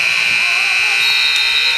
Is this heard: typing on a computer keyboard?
no